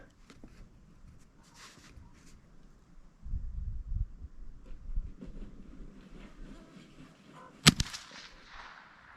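A single sharp crack of a Winchester Model 62A rifle shot at a target range, loud and abrupt against quiet outdoor background, with a brief burst of faint rumble earlier.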